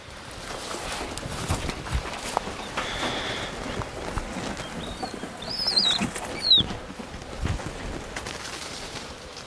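Birds close by at an outdoor gun dog training session give a few quick, high chirps and flutter their wings in short bursts, loudest midway. Soft footsteps and rustling sit underneath.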